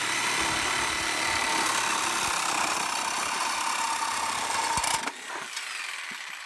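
A Sawzall reciprocating saw cuts through a Cherry Bomb Turbo exhaust pipe on a Camaro V6, giving a loud, steady, rasping buzz for about five seconds before stopping abruptly.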